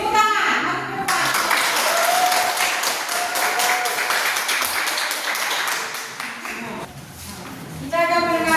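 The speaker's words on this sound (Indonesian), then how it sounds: "Beri tepuk tangan, maju ke depan." Students in a Christian religious education class get a round of applause as they come forward, dense clapping filling most of the moment with a few children's voices, and speech at the start and end.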